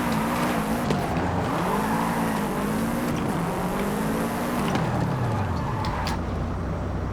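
A drift-built Nissan Skyline R34 slides through corners in a Forza racing game, its engine note rising and falling steadily with tire squeal layered throughout, loud and continuous.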